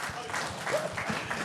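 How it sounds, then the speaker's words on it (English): A brief burst of applause from a small group on a driving tour, fairly faint and muffled, with voices mixed in. "round of applause for Scott for being a double Olympian"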